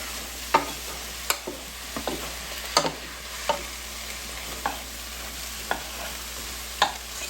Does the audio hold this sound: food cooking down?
yes